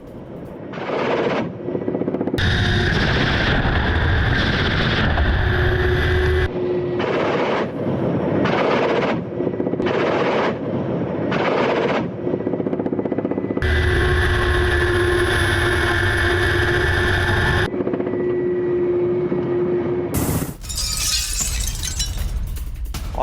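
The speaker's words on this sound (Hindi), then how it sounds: "रूसी हेलीकॉप्टर KA-52M का कहर। यूक्रेनी इलाके में मिसाइल बरसाई गई।" A Russian Ka-52M attack helicopter fires missiles over Ukrainian territory, loud rotor roar and blasts coming in choppy, cut-together bursts of war news footage.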